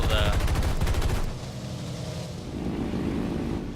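Rapid aircraft machine-gun fire in the War Thunder combat flight game, a loud, dense burst of rattling shots that cuts off after about a second, leaving engine drone and game ambience.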